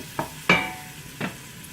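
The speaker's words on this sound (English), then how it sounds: "We can hear that nice sizzle when it goes in." Onions dropped into a hot pot give a sharp sizzle, with a couple of softer bursts around it, close and brief with no talk.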